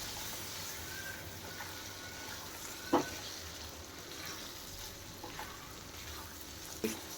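Prawns sizzle and fry in a pan with a little added water while being stirred, a steady hissing with a couple of sharp clinks from the utensil, fairly faint and close, with no talking.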